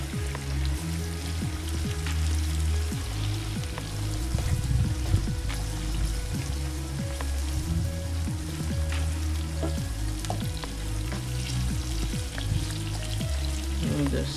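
Potato pieces sizzle and crackle steadily in a pot of curry lamb stew, with a constant frying hiss and scattered pops as they are stirred around.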